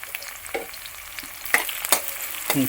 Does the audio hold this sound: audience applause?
no